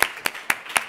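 Scattered claps from an audience at an urban accessibility and regeneration forum, four distinct sharp claps spaced evenly over a second, fairly close and moderately loud.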